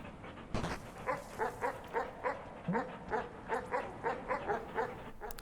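Dogs in the video game Animal Well pant and bark, a faint run of short rhythmic yips and huffs repeating steadily after an opening thump, with no talk.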